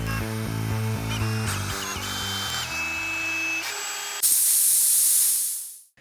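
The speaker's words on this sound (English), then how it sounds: "I'm running the winch with a drill." A power drill whirs in stepped bursts as it winds a poorly designed winch, ending with a sharp hiss before cutting off.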